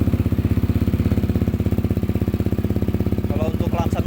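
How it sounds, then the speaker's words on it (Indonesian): Yamaha Aerox scooter engine started and idling, a rapid, even putter of single-cylinder firing pulses held close and loud, with a person briefly speaking near the end. "Langsung kita pencet knob kontaknya, putar ke kanan, cek starter."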